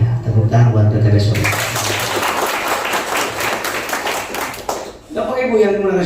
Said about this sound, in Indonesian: Tepuk tangan buat PTBS.